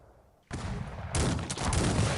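Massed musket volleys crack out in the Cossacks 3 strategy game: after a brief quiet, a loud burst of gunfire erupts, then a second heavier wave of overlapping shots rolls on as a dense, sustained fusillade.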